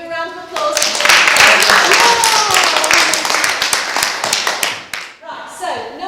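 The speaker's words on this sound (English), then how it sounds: "Give him a round of applause." Pupils in a school classroom during interview training give a lively round of applause, rapid overlapping claps that build quickly and taper off near the end, with voices audible underneath and after.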